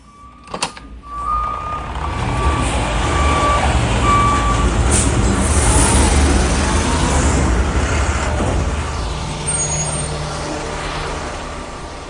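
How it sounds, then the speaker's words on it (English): A garbage truck works in an alley, its loud engine rumble rising and holding with a brief clatter near the start, reversing beeps and a hiss of air brakes, then easing off toward the end. "Got a garbage truck in the alley."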